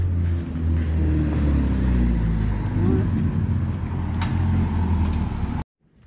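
A Ferrari sports car being loaded for transport gives a loud, steady low engine rumble up close, holding continuously for several seconds before cutting off abruptly near the end.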